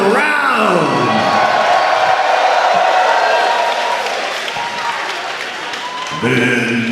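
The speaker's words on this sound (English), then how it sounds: "We got some crowd noise today." Spectators at an exhibition fight cheer, whoop and yell in a loud sustained roar, with rising shouts at the start and a fresh surge near the end; an announcer-like voice carries over the crowd.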